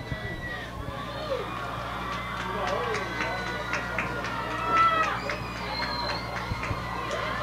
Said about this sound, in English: Home crowd getting on their feet, cheering their team on